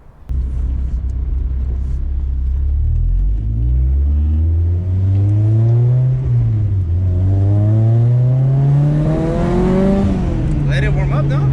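A K24-swapped 1999 Honda Civic four-door EK engine revs steadily while warming up, its pitch climbing and falling across the rise, loud and close, with voices talking faintly over the idle.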